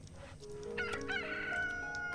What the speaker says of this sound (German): Kikeriki.